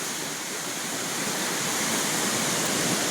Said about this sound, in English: the force of the water going out across the top of the bridge